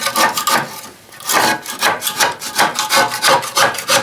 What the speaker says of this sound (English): So we'll need our little scraper. Get in there and just kind of clean this up a little bit.